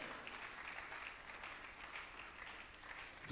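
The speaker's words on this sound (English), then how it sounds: "Please, a round of applause for this great gentleman" Audience applause fills a lecture hall at a school panel discussion, steady dense clapping from a crowd held at an even level throughout, fairly distant and without a break.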